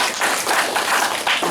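An audience at a business presentation applauds a company representative, a dense, steady burst of many hands clapping heard close, with no speech over it.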